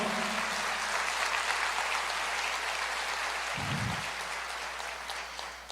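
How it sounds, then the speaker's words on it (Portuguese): A church congregation claps, a loud, dense, steady wash of applause that fades slightly toward the end, with a brief low thump partway through. "Pode aplaudir."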